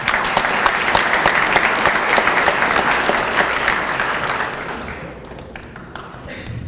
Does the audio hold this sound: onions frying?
no